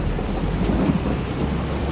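Steady rain with a low thunder rumble in the farming video game Farming Simulator 22, a dense, continuous wash of noise without pauses or voices.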